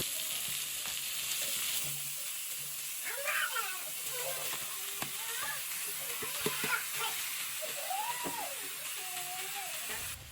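Meat tipped into a pan of sautéed onions for a Jaffna-style meat curry, frying with a steady close sizzle and hiss throughout, while brief tonal vocal sounds rise over it in the middle.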